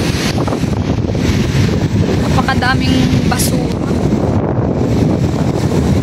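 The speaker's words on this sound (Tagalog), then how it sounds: "Ayoko pumunta kasi sobrang lakas ng hangin." Strong wind roars across a seashore during a storm, buffeting the microphone in a loud, continuous rumble with surf behind it, while a person speaks briefly.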